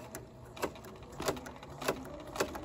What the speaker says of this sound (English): So we're going to sew forward.